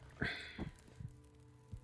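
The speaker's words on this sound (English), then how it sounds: "Here comes the heartbeat." Heartbeat sound effect from the survival video game The Long Dark: four or five soft, low thumps at an irregular, slowing pace, with a brief brighter swell near the start, over a faint game hum.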